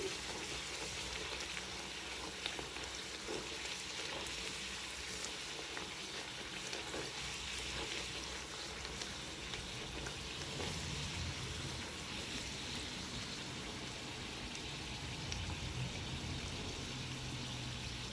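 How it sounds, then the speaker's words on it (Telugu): Puris deep-frying in hot oil, turned so both sides brown, make a steady dense sizzle that hisses on unbroken and close for the whole stretch with no voices. "రెండు వైపులా కూడా ఎర్రగా వేగేలా వేయించుకోవాలి."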